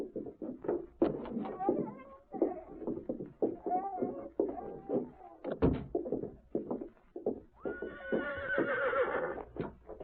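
A horse whinnying loudly near the end, with hoof clip-clops and movement sounds in an old-time western radio drama, mixed in among bursts of close talking.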